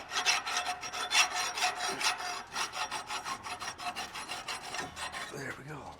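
An old hand file rasps steadily across a steel welding land, smoothing high and low spots in a rapid back-and-forth rhythm of close, bright strokes with no talking.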